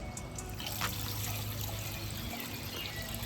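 Water from a Hygger 24V pond waterfall pump trickles and splashes steadily over the falls, a continuous soft, close babble with faint drips and no voices.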